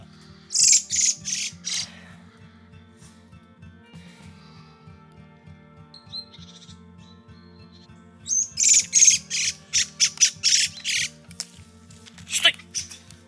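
A small bird chirps in quick bright bursts, first a short flurry, then a longer run of rapid tweets later on, heard close over a low steady engine-like hum, with people talking quietly at times.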